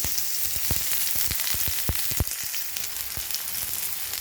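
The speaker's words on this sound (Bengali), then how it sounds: "5 ফোড়ন দেওয়ার পর এরপর একে একে দিয়ে দেবো রসুন কুচি, পেঁয়াজ কুচি" Chopped garlic and onion dropped into hot oil with panch phoron, a steady loud sizzle and crackle with sharp pops and spatters scattered throughout, no voices.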